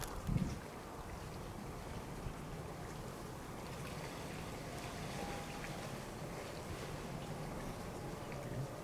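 Water moving through a creek at night at Goatman Hollow gives a steady, soft rushing wash that runs unbroken for the whole stretch, fairly quiet and with no voices.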